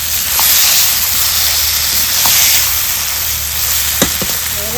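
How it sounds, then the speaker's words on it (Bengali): Pre-fried crab being sautéed with masala in a pan for a Bengali crab and potato curry, giving a steady broad sizzle throughout with a few sharp clicks of a spoon scraping near the end, no talking. "তারপর দিয়ে দিব ভেজে রাখা কাঁকড়া দিয়ে আবার ভালো করে একটু কষাবো যাতে মশলাটা কাঁকড়ার ভিতরে একটু ঢুকে যায়"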